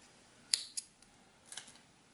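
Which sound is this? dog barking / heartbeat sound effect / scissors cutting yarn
scissors cutting yarn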